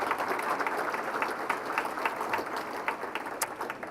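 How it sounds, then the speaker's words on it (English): Audience applause at a Republican fundraising event, a steady wash of many hands clapping throughout with scattered sharper claps standing out, fairly loud and without talk. "let's give them a clap"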